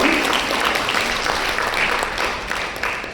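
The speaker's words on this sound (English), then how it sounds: "a big round of applause to everybody" Sustained, dense applause from an audience at a FICCI FLO Chennai event honouring young achievers, steady and fairly loud throughout with no pause.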